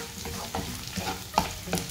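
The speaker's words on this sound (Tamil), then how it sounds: "வெங்காயமும் பூண்டும் நல்லா வதங்கி கண்ணாடி மாதிரி வர்றது வரைக்கும் வதக்கி எடுத்துக்கணும்." Shallots and garlic sautéing in a pan, a steady close sizzle with a few stirring scrapes and pops, no talking.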